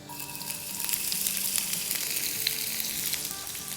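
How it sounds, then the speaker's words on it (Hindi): Chopped onions drop into hot oil and fry, a close, steady crackling sizzle with small popping spits, heard alone under soft background music. "इस तेल में अब हम डालेंगे 2 टेबलस्पून ऑमलेट कट अनियन"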